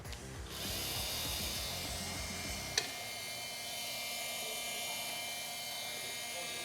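PUMA PM-2160BL cordless brushless 20V multi-tool running at a steady high-pitched whine, close and continuous, with a brief click partway through.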